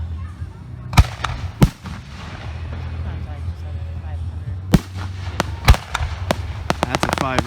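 Professional 5-inch specialty firework shells at a display in Richmond, Missouri: several loud, booming detonations a second or more apart, followed by quicker bangs and crackling over a low outdoor background.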